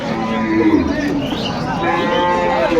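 Cattle moo repeatedly at a crowded livestock market, fairly close and loud, with market chatter and voices continuing underneath.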